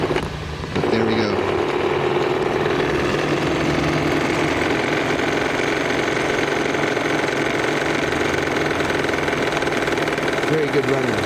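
An early Bassett-Lowke live steam engine powers a 42-inch model patrol cruiser boat. It runs in a steady, loud, continuous chugging drone that holds almost unchanged for about ten seconds before stopping.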